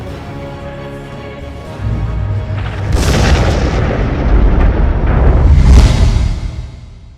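Asteroid fragment slamming into the Erusean capital Farbanti in Ace Combat: a deep rumbling boom that swells into roaring, rolling blasts and then fades.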